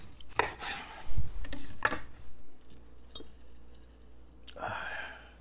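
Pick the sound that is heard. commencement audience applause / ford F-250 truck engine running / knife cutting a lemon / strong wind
knife cutting a lemon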